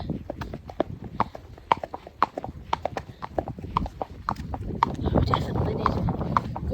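Rhythmic hoofbeats of a horse cantering, steady three-beat thuds close by, with wind and movement noise growing louder toward the end.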